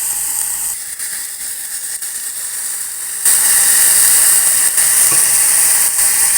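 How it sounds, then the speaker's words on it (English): Beef strips and garlic frying in hot oil give a loud, steady hissing sizzle that jumps louder partway through and continues without pause. "You want the beef to fry up with the garlic inside."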